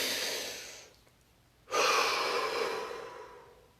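A deep breath: a breathy exhale fades out, a brief pause follows, then a sudden strong inhale swells and holds steady, close and alone with no talking.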